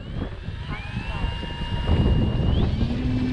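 An Avios Grand Tundra radio-controlled model plane in flight, its thin motor whine sliding up in pitch over rushing wind buffeting the microphone.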